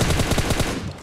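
Rapid automatic gunfire in the mobile shooter PUBG Mobile on the Miramar map, a fast burst of about eight loud shots in quick succession that fades after under a second, with no talking.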